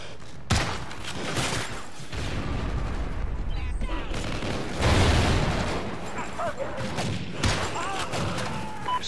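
Trinity rocket strikes explode in Call of Duty: Ghosts, a dense run of heavy thuds and booms mixed with close gunfire and a brief voice, loud throughout.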